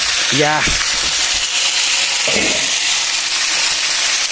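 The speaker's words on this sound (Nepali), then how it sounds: "अब यसरी मासु चाहिँ पाक्नु थालिरहेको छ।" Meat fries in a hot pan, giving a loud, steady, close sizzling hiss that runs unbroken from start to finish, with a brief voice near the start.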